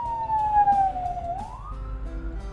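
A wailing ambulance siren on a road near Payakumbuh, one long tone sliding down and then sweeping up, heard close over a low rumble of traffic.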